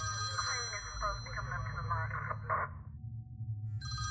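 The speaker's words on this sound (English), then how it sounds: "Who has that ringtone though?" A phone ringtone plays in the video game Faint Call, a warbling electronic melody with a brief louder note near the end before it cuts off, heard over a low background rumble.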